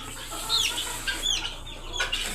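Farm guinea fowl and hens cluck close by in a few short, sharp, rising calls spaced across a couple of seconds over a quiet farmyard background.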